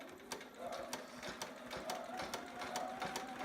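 A sewing machine back stitches on a child's romper with suspenders, a quiet, even series of rapid needle clicks at a steady rhythm.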